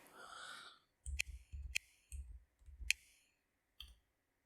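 Cursor keys on a paired Bluetooth keyboard are tapped while navigating an Amazon Fire TV. A soft breathy noise comes first, then about six crisp, close clicks at irregular intervals with quiet gaps between them.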